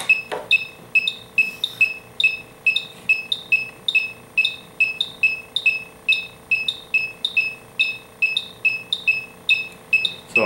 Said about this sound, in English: Now let me test again. Compare side by side. Chinese leak detector.